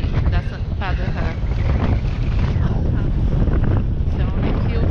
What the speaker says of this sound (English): So only few people on the beach because it's so windy